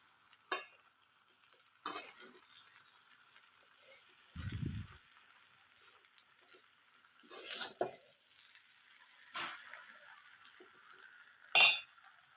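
Cooked rice is stirred and mixed in a metal pan, with sparse, sharp clinks and scrapes of a spoon against the pan arriving every second or two, close and fairly quiet between strokes.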